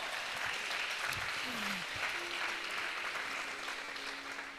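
A church congregation applauds the Lord during a sermon on Nehemiah, a continuous, fairly quiet roomful of clapping with faint voices and a short sung or called tone rising briefly over it.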